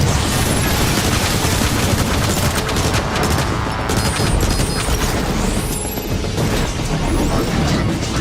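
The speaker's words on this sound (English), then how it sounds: "Autobots are firing grenades!" Grenade blasts and cannon fire from Autobots and a tank in the War for Cybertron video game make a dense, nonstop barrage of loud explosions and rapid gunfire with mechanical clatter, filling the whole stretch with almost no letup.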